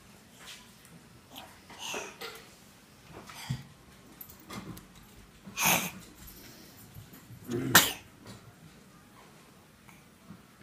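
Someone sneezes indoors, a couple of sharp bursts set apart by quieter sniffs and breaths in a calm room.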